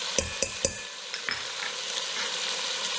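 Onions and garlic sautéing in a pan for a Paraguayan puchero, a few sharp scrapes of a stirring utensil up front, then a steady bright sizzle and frying hiss that carries on alone.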